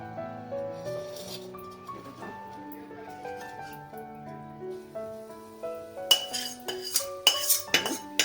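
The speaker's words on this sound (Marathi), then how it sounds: "व्यवस्थित मिक्स करून घेऊया." Puffed rice chivda being tossed and stirred in a metal pan, with dry rattling clinks and scrapes arriving in a burst of close strokes near the end, after a stretch of soft tonal background music.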